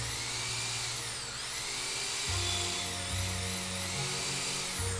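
A Makita or Hitachi power tool, an electric chisel or drill with LED light and reversing switch, whines steadily at close range with a high pitch that rises and dips, while a low beat pulses underneath.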